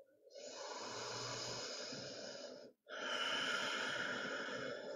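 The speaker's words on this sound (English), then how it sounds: "Take one more cycle of breath." Deep, full breathing during a gentle chair yoga session: a long, steady breathy exhale or inhale, a short silent pause, then another long airy breath, close to the microphone and alone.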